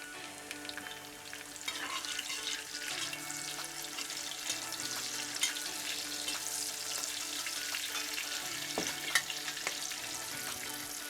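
Green chillies and crushed garlic dropped into hot oil in a pan for a Kerala duck roast: steady close sizzling and crackling with occasional stirring clinks and scrapes, continuous throughout.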